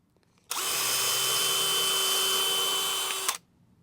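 A power drill whirs steadily into wood for about three seconds, starting and stopping abruptly, loud and close with no talking.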